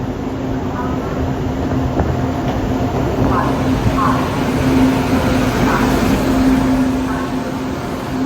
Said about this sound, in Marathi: आता ट्रेन येईल